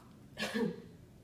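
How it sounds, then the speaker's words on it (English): A single short cough, close and moderately loud, with a quiet room before and after. "you're going to cough"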